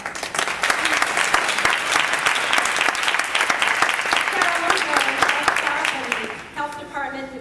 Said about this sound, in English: I'm going to give you a round of applause.